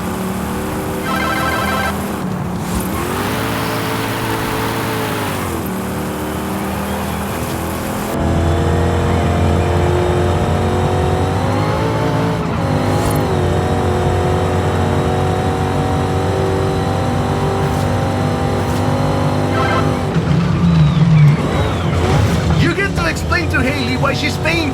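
An old car in Forza Horizon 5 revs and accelerates, the engine pitch rising and falling repeatedly and growing louder partway through, with in-game tones and speech mixed in.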